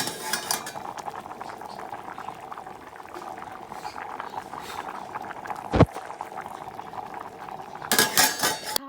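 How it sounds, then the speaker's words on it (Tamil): Biryani simmers in a pot with a steady low bubbling and hiss, broken by a few sharp clinks of a utensil against the vessel near the end. "பிரியாணி மட்டும் கொதிச்சிட்ருக்கு"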